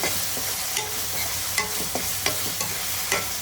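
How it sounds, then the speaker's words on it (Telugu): Mutton curry masala with coconut sizzling steadily in a pan while a spoon stirs it, with repeated scraping knocks over the continuous frying hiss. "ఇది కూడా పచ్చివాసన పోయే వరకు వేపుకున్నాము కలుపుకున్నాం ఒకసారి"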